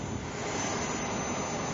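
Steady, loud broadband roar of a large airliner with Rolls-Royce engines on its landing approach, a continuous even wash of jet noise with no voices.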